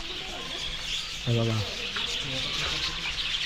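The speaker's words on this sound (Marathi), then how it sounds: "आणि मित्रांनो बघा इथे सगळे पक्षी आहेत" Birds including parrots in an aviary chirp and call in the background, with one louder call standing out, while people talk nearby.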